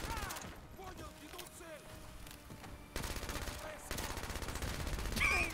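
Rapid automatic gunfire in Call of Duty: Modern Warfare 2 Campaign Remastered, dense bursts of shots that grow heavier in the second half, with a player's voice talking over the fighting.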